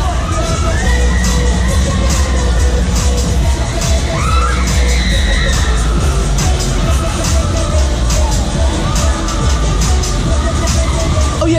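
A large crowd screaming and cheering continuously on fairground rides at Cambridge Midsummer Fair, loud and dense, with children's shrill shouts and occasional bangs mixed into the roar.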